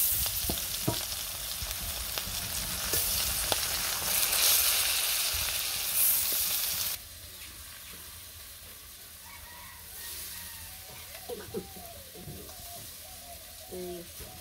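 Koi fish frying in oil in a village kitchen, a loud dense sizzle and crackle that drops to a quieter hiss partway through, with stirring clatter, close and continuous without talk.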